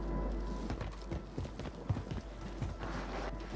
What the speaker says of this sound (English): Hearing footsteps everywhere.